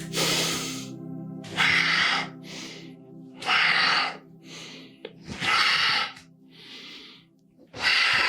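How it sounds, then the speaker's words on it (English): A person breathes out audibly during yoga movements, with a series of about seven strong, breathy exhales in an uneven rhythm, separated by quiet gaps and heard up close. "exhale, bring it through. So exhale for each movement"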